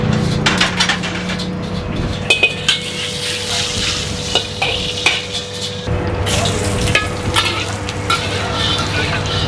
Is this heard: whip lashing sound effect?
no